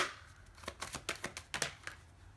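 A deck of tarot cards riffled in a close shuffle, a quick run of crisp flicking snaps about two seconds long, with no talking.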